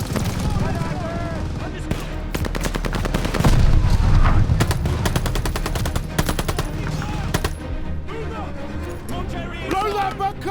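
Machine gun fire in a World War II battle from Call of Duty Vanguard crackles in loud sustained bursts, with explosions and shouted soldier voices mixed in over a dense battle din.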